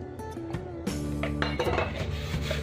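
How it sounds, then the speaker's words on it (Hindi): A metal bowl handled while being greased with oil for bread dough, with clinks and scraping knocks close by and a steady background hum. "इसीलिए बर्तन में थोड़ा ऑयल लगा देती हूँ।"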